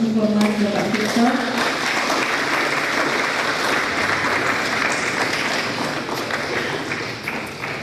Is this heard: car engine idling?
no